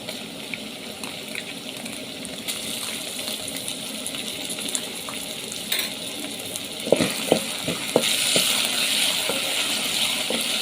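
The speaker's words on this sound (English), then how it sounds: "I love frying my onions until they are golden brown" Onions, ginger and garlic frying in a pan for a broiler chicken stew give a steady, close sizzle throughout, with a few sharp clicks and taps of stirring toward the end.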